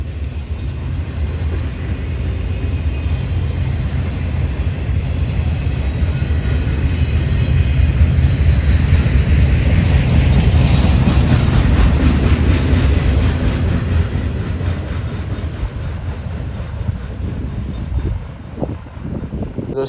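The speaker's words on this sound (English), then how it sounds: "the first time I've ever successfully caught maintenance of way equipment being transported by rail" A freight train hauls maintenance-of-way equipment along the rails, a loud, steady close rumble of wheels and cars with metallic squealing, rolling past continuously before easing slightly toward the end.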